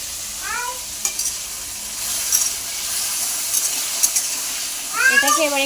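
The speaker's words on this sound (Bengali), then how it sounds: "এটাকে এবার একটু নেড়ে নিচ্ছি," Lote fish seasoned with salt and turmeric fries in a pan, giving a soft steady sizzle broken by light stirring clicks, with short high meow-like calls near the start and end.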